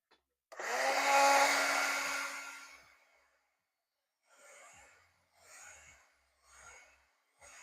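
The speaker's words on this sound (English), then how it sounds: "I am going to hit those areas with the dryer first" A hair dryer blowing air over sculpted clay on a mushroom fairy house, a steady close whooshing roar for about two seconds that fades, then several shorter soft bursts of airflow.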